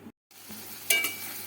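Spice paste being stir-fried in a pan with oil, a soft steady sizzle broken by a short pause and a couple of quick scraping stirs near the end, close and quiet with no talking.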